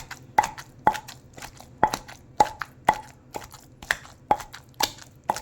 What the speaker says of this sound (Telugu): ఇప్పుడు ఈ ఆనియన్స్ కూడా పచ్చల్లో మిక్స్ అయ్యేటట్టు అలా కచ్చా పచ్చాగా కొంచెం దంచుకోవాలి